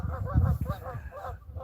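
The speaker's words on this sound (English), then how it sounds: "there goes the duck, the geese. Oh, just went airborne." Several geese honk loudly and close as they take off from the water, a quick run of overlapping harsh calls with a voice speaking over them.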